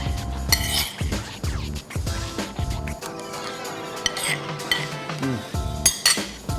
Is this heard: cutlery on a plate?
yes